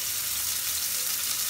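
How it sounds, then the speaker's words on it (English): Chicken pieces laid skin-side down in olive oil in a hot iron skillet give a steady, loud, close sizzle and crackle with no break. "I'm going to place my chicken with the skin side down directly into that"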